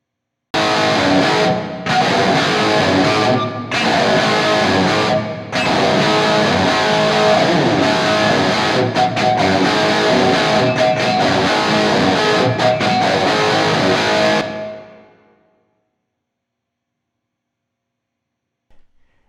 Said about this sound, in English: I think we got too much reverb.